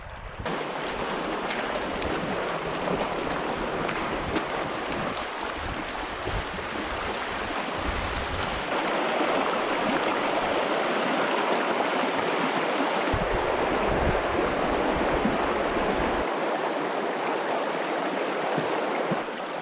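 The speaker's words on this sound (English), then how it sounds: "We're just sitting in the creek, as you can see, because we're pretty hot." Creek water flows steadily and close by at a warm outdoor stop on a Yukon canoe trip along the Wind and Peel rivers, a continuous broadband rush with no talk.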